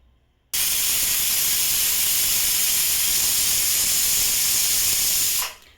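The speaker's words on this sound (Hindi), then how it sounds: "3 विसिल हो चुके हैं।" A loud, steady hiss of steam bursting from a pressure cooker whistle while jackfruit and chana dal cook, holding constant for about five seconds before cutting off.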